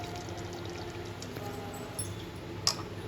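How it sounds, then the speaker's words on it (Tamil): Tamarind water pouring into a hot pan, a soft continuous splash with faint sizzling and a light clink near the end, close and quiet. "புளியை ஊற்றிட்டு"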